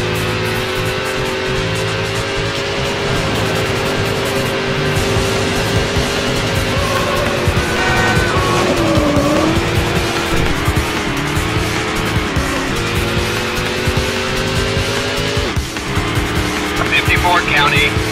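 Red Dodge Viper racing in Need for Speed Hot Pursuit 2, a loud, sustained engine drone with shifting pitch, squealing tires and skids, and a radio voice talking over it.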